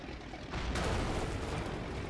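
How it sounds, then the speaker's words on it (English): Tank shells slam into a Tiger tank in a World War II combat game and set off an internal explosion, a sudden loud boom that swells into a dense, rumbling roar and holds steady without talk. "Hit the side hull 3 times. There we go. Internal explosion, engines out."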